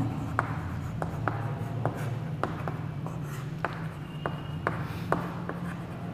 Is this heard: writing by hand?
yes